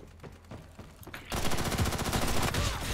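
Gunfire in the online shooter Ghost in the Shell: Stand Alone Complex First Assault Online, with a few sparse shots, then a sustained rapid automatic burst that is loud and close, with no talking.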